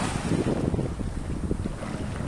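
Strong sea waves rush at a beach in Kuwait, heard as a broad, continuous surf roar mixed with heavy wind buffeting the microphone.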